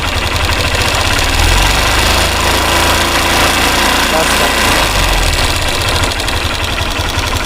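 Hero Xtreme motorcycle engine with a worn, faulty timing chain, running with a steady knocking tick over a loud, continuous engine drone that swells briefly as the throttle is opened, recorded up close with a voice talking over it.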